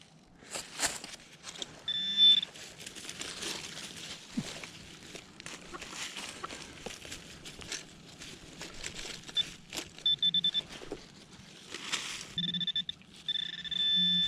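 Metal detector tones sound over a dug hole in a field, steady high beeps recurring in bursts, with low warbling signal tones around them and rustling digging noise beneath.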